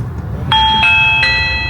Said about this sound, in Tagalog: Mag-doorbell tayo.